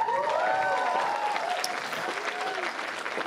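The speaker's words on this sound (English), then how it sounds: "applause you're getting for your phenomenal performance" A live audience applauds steadily after a magic performance at a comedy podcast taping. The crowd's clapping is a thick, continuous wash, with voices talking over it throughout.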